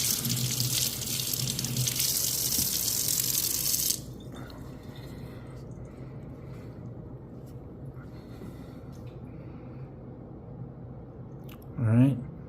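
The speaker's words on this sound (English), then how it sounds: "I'm just gonna rinse this off here." Tap water running steadily over a silver coin being rinsed in a sink, a loud continuous gush that stops abruptly after a few seconds, leaving a quiet background and a brief clatter near the end.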